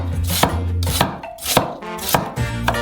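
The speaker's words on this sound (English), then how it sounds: "We cut a Crimean onion in half" Knife chopping a Crimean onion into half rings on a board, a few sharp sparse strikes spaced about half a second apart, close and loud, with no talking.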